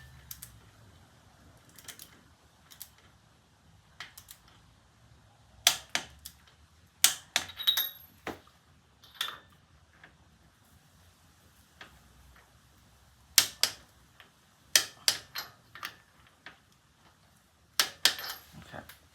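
A torque wrench tightens Brisk Premium BOR14LGS racing spark plugs on a Harley-Davidson Rocker, producing a series of sharp metallic clicks and ticks in scattered bursts, close and fairly quiet against a low background.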